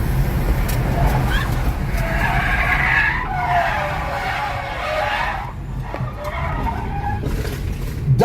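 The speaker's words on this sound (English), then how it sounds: "causing the Camry to spin out of control." A silver Toyota Camry skids and spins out of control after dodging a pit maneuver, its tires squealing loudly and continuously over a roaring engine and road noise.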